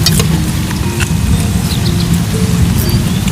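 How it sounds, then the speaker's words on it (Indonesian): Rain falls steadily in a continuous wash of patter with a low rumbling undertone and scattered drops standing out. "Hujan."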